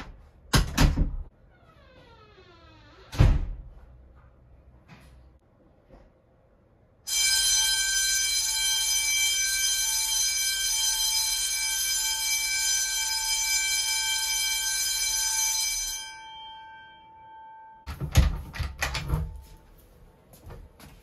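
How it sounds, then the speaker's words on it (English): An Edwards fire bell rings muffled behind closed doors, a steady bright metallic clamor lasting about ten seconds, framed by loud door thuds and bangs before and after. "I'm going to close both doors and let the bell ring"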